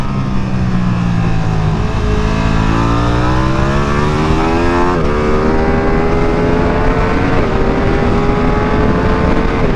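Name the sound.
Ducati Streetfighter V2 motorcycle riding a track lap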